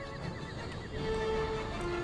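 Horse neighing in the strategy game Empire: Total War during a battle with war elephants, lancers and mortar fire, a loud whinny over steady battle noise that swells in the second half.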